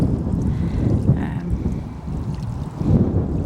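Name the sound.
wind blowing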